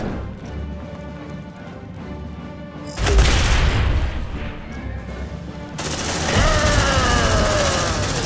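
A grenade blast erupts in the sci-fi shooter Aliens Dark Descent, a sudden loud boom followed by sustained rattling gunfire and crashing impacts, dense and close amid game soundscape, with no clear talk over it.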